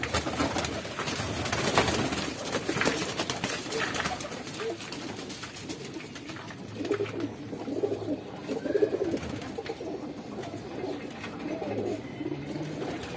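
Pigeons coo repeatedly in soft, low, rolling calls, with faint background noise and no talking.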